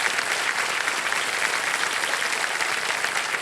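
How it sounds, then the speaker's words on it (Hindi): Studio audience on the Wheel of Fortune game show applauding, a dense, even burst of clapping that fills the whole moment at steady loudness. "तेरे लिए तालियां।"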